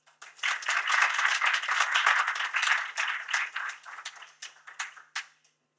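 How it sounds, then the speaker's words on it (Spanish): Audience at an international public law book launch clapping to welcome a speaker, a brisk round of applause that swells quickly, holds, then thins to scattered last claps. "Les pido que recibamos a doña María Teresa Infante con un gran aplauso."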